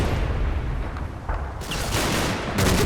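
Gunfire from a Churchill tank in the WWII video game Combat Mission: Battle for Normandy, a dense, booming barrage with overlapping shots and blasts rumbling continuously throughout.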